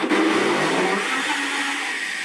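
A food processor whirs steadily at close range as it blends sesame and pumpkin seeds, a loud continuous grinding drone that holds the whole time with no speech over it.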